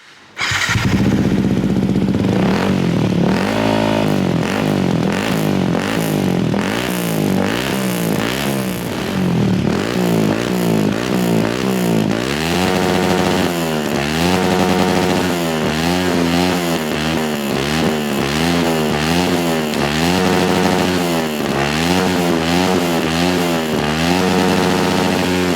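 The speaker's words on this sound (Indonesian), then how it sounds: "Asik juga kan knalpotnya, jadi nggak terlalu berisik, masih adem" A Yamaha WR155R supermoto engine with an aftermarket exhaust starts and idles with a deep, throaty burble, then revs repeatedly in rising and falling bursts, loud and close.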